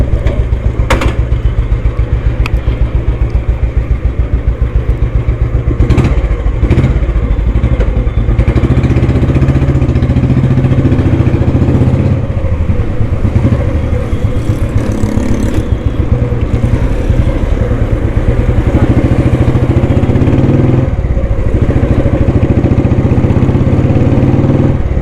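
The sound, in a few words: 1999 Royal Enfield Bullet motorcycle engine idling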